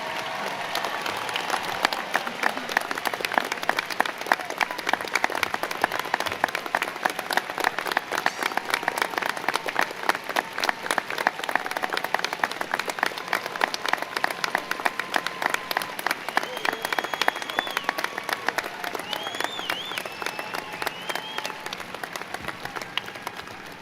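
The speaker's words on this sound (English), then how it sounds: "Please join me in a round of applause for our newest second lieutenants." An audience at a Georgia Southern University commencement applauds new second lieutenants steadily for over twenty seconds, a dense wash of clapping that stays loud and even before slightly thinning toward the end.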